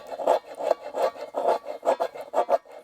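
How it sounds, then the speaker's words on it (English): The back of a knife scrapes fatwood in about eight rhythmic rasping strokes, each a close, dry, gritty rub with short pauses between. "And I like to use the back of my knife"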